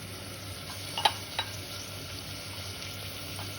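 Onion and tomato frying in oil in a pressure cooker, a soft steady sizzle with a couple of sharp stirring clinks near the start, close and fairly quiet, no voices.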